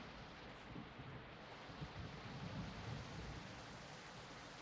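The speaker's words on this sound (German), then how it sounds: "Jetzt regnet es, das heißt, unser Ding wird wenigstens voll." Rain in the survival video game Project Castaway: a steady, soft wash of rainfall with low rumbling underneath, faint and continuous, with no talk.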